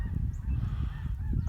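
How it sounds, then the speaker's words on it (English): Flock of geese honking outdoors on a cold winter day, a steady overlapping chorus of calls over a low rumbling background, fairly continuous with no pauses. "Geese are everywhere."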